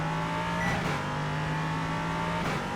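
A Ligier JS320 LMP3 race car engine in the iRacing game drones steadily and loudly under acceleration out of a corner at the Hungaroring, pitch holding high with brief shifts, no voices.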